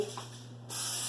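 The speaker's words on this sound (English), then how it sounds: "I'm going to spray, make sure it gets up on the edges." Cooking oil spray hisses into a small frying pan sized for two or three eggs, a short, close, steady burst that swells to a broad, loud hiss near the end.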